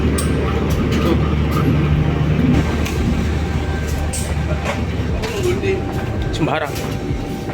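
A KRL Commuter Line train rolls steadily from a seat just behind the locomotive, giving a loud, constant rumble with rattling and a brief squeal near the end, while people talk briefly over it.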